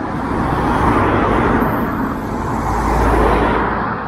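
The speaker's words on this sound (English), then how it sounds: "Traffic going by" Steady rumbling road noise of vehicles passing, a continuous broadband wash with a low engine drone swelling and fading, no voices.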